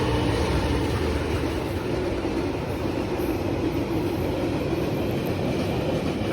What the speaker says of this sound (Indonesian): Bersilang dengan kereta api barang.